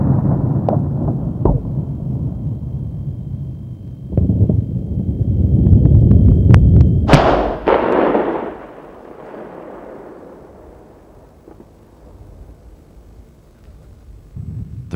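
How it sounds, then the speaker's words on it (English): A Bofors artillery shell bursts inside a bunker with a sharp, heavy blast after rumbling buildup, followed by a long fading roar and debris noise, with wind buffeting the microphone. "The shell penetrates about 1 meter into the bunker before detonating"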